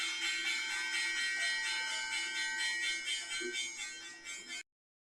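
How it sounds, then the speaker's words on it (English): A stock market closing bell rings continuously for several seconds, loud and sustained with a bright metallic ringing tone, then stops abruptly. "Closing bell, boys."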